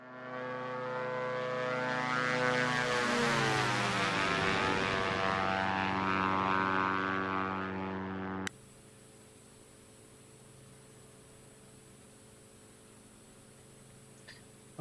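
A Diamond DA62 twin-engine plane flies by in a flight simulator game, its propeller drone swelling and sweeping down in pitch, then cutting abruptly to a quiet, steady cockpit hum with no talk.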